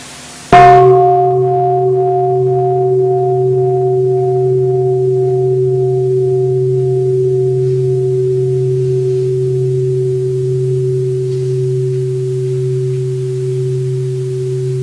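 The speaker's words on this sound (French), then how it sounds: "Alors on va écouter un son de cloche" A single bell is struck once, then its loud, steady tone hangs and slowly fades over about fourteen seconds, alone with no talking.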